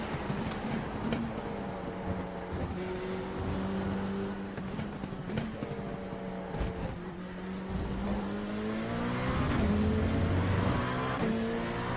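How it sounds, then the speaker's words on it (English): LMP2 prototype race car engine at Le Mans in a racing game, a loud steady drone with rising and falling harmonic pitch sweeps through gear changes, continuous throughout with brief transient knocks. "Slower class car ahead."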